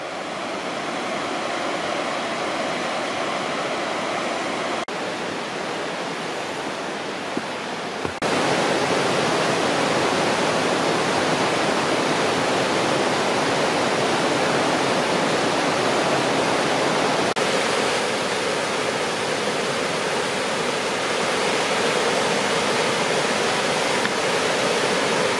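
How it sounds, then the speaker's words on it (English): Staircase Rapids on the North Fork Skokomish River, a continuous loud roar of rushing whitewater that swells and grows denser partway through and holds steady with no voices. "Now you can see some of the rapids that give it the name Staircase Rapids."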